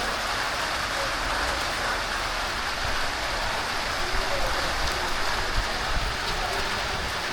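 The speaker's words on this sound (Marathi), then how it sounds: "वरती टेरेसवर आलेलो आहे आणि पाऊस बघा" Steady, dense rain falls on and around a rooftop terrace in Kolhapur, a continuous close hiss and patter with no pauses.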